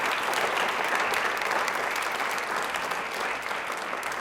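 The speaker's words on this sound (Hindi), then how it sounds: "तालियां एक बार समक्ष जी के लिए भी ज़ोरदार होनी चाहिए" Studio audience on a quiz show clapping loudly and steadily, a dense, even wash of applause with no speech over it.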